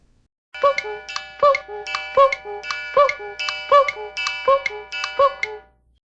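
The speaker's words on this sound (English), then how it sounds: "he heard his clock chime" A storybook clock chimes in a Winnie the Pooh read-aloud, a bright ringing melody of repeated bell-like tones struck in a steady ticking rhythm, clear and close with no talk.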